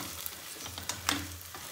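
Vegetables such as beans being stirred in a pan while cooking a vegetable sagu, giving a soft, steady sizzle with a few brief scraping clicks, heard close and alone without talk.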